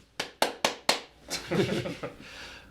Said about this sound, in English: That was too many claps.